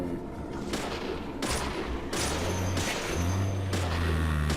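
Heavy gunfire in the horror game Deadly Premonition, loud booming shots in quick succession layered over a dense rumbling background, with no talking.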